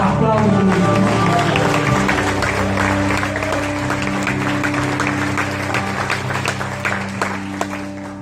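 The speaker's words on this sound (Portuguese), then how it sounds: "E se você crê nisso, aplauda." A church congregation applauds in a dense wash of clapping that starts loud and slowly thins and fades, with a low murmur of voices underneath.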